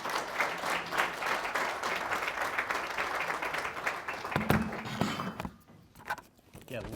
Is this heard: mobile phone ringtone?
no